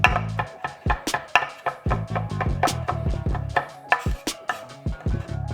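Garlic being chopped on a cutting board with a knife, a fast run of sharp, close knocks in an uneven rhythm, loud and alone.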